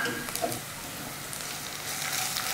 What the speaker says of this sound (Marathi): ही पण आता 1-2 मिनिटच आपण परतून घेऊया